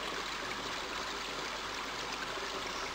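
A river in King's Quest 5 flows with a steady, even rush of water, constant hiss-like babble with no breaks.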